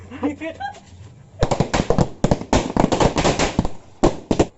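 Diwali firecrackers, including a mirchi bomb, burst in a rapid crackling string of sharp pops over about three seconds, with a couple of later bangs, loud and close outdoors after people talk at the start.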